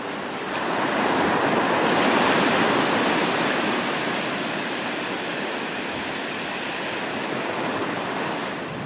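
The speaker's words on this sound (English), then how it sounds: "We've arrived at the ocean." Ocean waves wash steadily onto a beach, a loud, continuous broadband roar of surf that swells slightly early on and then holds, with no voices.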